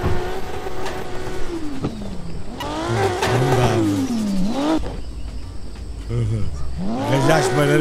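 Engine of a muscle car in the Car For Sale Simulator video game revving and accelerating in repeated rising sweeps, dropping back between gear changes, loud and continuous with no talk.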